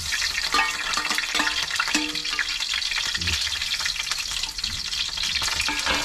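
Garlic sizzles steadily in hot oil in a pan, a continuous crackling fry with occasional stirring clatter, close and loud throughout with no talk.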